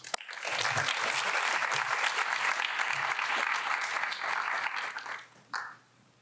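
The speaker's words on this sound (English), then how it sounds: "Please, let's give him a round of applause." Audience at a three-minute thesis finals applauding a presenter, steady dense clapping that holds for about five seconds before dying away, with one last isolated clap after.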